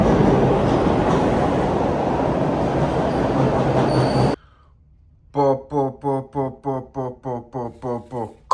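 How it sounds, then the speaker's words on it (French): A subway train at a metro station, first a loud rumbling roar, then a sudden drop to near quiet followed by a rapid series of rhythmic tonal beeps or chimes. "Là, je suis au métro."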